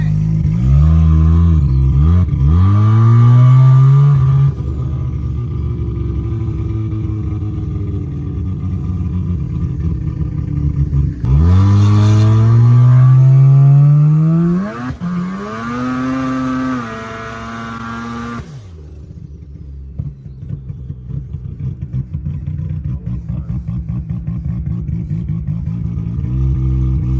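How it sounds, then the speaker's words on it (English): A 500 hp 12a rotary-engined car doing a warm-up skid, its loud, buzzing engine revving up and down in long sweeping pulls, then dropping to a rough, burbling idle. "I can do a warm-up skid."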